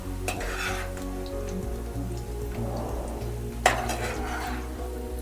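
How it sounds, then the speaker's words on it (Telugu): Cauliflower pieces fry in hot oil in a pan for a Telugu-style spicy preserved cauliflower pickle, giving a steady close sizzle with stirring scrapes and a sharp clatter near the end, with no voices. "మనం ఒక 2 నిమిషాలు ఫ్రై చేసుకుందాం."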